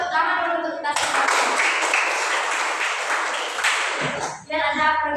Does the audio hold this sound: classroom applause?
yes